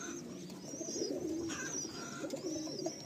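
Madrasi pigeons in a loft cooing in low, repeated throaty phrases, close and continuous, with faint chirps in the background and no talking.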